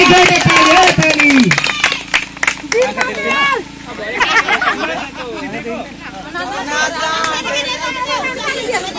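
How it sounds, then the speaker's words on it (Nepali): An audience at a prize-giving event claps in scattered bursts beneath loud crowd chatter and voices that keep talking throughout. "ताली जोडे ताली हो ताली।"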